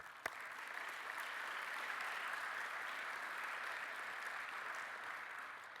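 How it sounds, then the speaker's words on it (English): Audience applause at the Forum 81 Grand Awards Ceremony, a sustained, fairly distant sheet of clapping from a large room, steady throughout with a single sharp knock near the start. "So let's give them a round of applause too."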